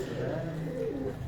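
A pigeon coos softly and close by, a low rolling call lasting just over a second.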